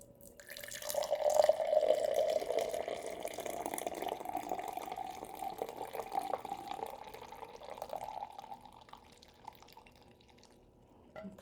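Chai latte poured from a container into a cup, a steady close trickling pour that swells early and slowly tapers off toward the end, with no talking.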